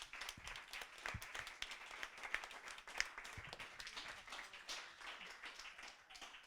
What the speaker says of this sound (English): So one more round of applause for all of our speakers